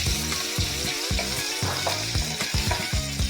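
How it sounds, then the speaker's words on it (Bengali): Paneer cubes frying lightly in white oil in a kadai over a medium flame, a close, continuous sizzle marked by repeated soft knocks and scrapes, with a tonal hum running underneath. "কড়াতে সাদা তেল দিলাম আর পনিরগুলো এবার আমি ফ্রাই করে নেব"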